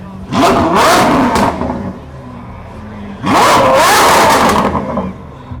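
A Ferrari SF90 hypercar engine revs loudly in two sharp bursts, each rising in pitch then dropping back, with a lower idle between them.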